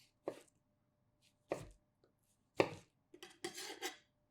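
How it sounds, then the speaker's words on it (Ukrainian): A knife slices pickled cucumbers into thin strips on a cutting board, making a few close, separate crisp cuts and a short run of quick scraping chops at the end. "Солоні огірки також наріжте соломкою."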